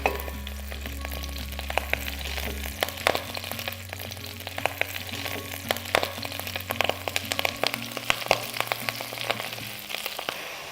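Silver beet and other leafy greens sizzle and fry in a pan, a steady close crackle with scattered sharp pops and stirring scrapes, a low hum underneath throughout.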